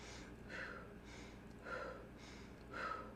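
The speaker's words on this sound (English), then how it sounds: "Chest breathing." Quick, short chest breaths, three airy breath bursts about a second apart. They are close and quiet, sound a little sharp and gasping, and there is no speech.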